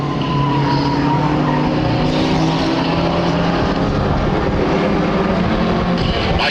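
Stock cars roar out of a turn late in a short-track race, a loud, dense wall of engine noise with tire scrub and shifting engine tones as several cars pass close by.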